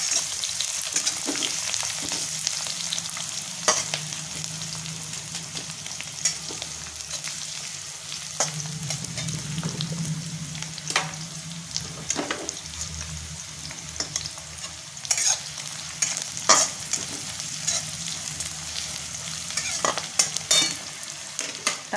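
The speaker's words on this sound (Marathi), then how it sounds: "कांदा थोडा परतून घेऊया" Onion fries in a pan while being stirred, a continuous sizzle broken by repeated scraping and clinking strokes of a spoon against the pan, close and clear, with no one talking.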